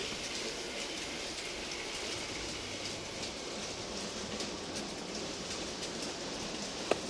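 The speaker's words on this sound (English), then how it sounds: "it looks quite good going around" N gauge model train hauling a heavy rake of IPA car carriers around the track, a steady quiet rolling rumble and hiss of wheels with a small click near the end.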